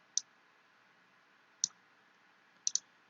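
Sharp computer mouse clicks while working in presentation software: a single click, another about a second and a half later, then a quick double click, each crisp and close against a faint, quiet background.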